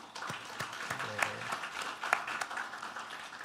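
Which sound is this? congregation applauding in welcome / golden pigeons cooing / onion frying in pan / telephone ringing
congregation applauding in welcome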